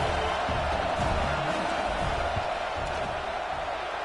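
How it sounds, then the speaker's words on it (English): A football stadium crowd at a Texas versus Texas A&M game roars steadily and loudly, a dense wall of noise with scattered shouts as the field goal unit lines up. "This crowd trying to do its part to get inside the kicker's head."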